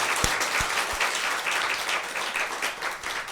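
A church congregation at a Korean Sunday service claps steadily and vigorously, a dense, even wash of applause filling the whole stretch with a few louder thumps near the start.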